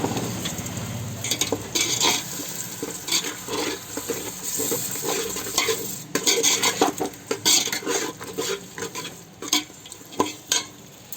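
Curd being stirred into egg biryani curry in a pan, with steady scraping and clinking of a spoon against metal and a soft sizzle underneath, close and continuous.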